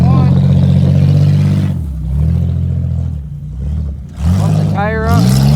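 A Chevrolet Impala engine runs with its exhaust chopped off, giving a loud, raw, rumbling idle that swells with a couple of revs, close by, while people talk over it.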